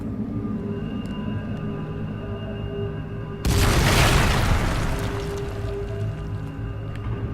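Quiet low hum suddenly broken by a loud, close explosion as a siege weapon breaks through a barrier in Dragon Age Inquisition, the burst decaying into a rumbling tail over several seconds.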